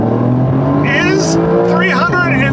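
A Porsche 992 Carrera, the entry-level 379-horsepower model, accelerating hard from inside the cabin, its engine droning loud and steady with rising whines and gear changes, while a person talks over it.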